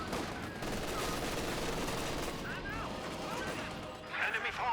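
Light machine gun bursts and scattered gunfire crackle in a Company of Heroes 2 battle, dense rapid shots and distant explosions running under a commentator's talk.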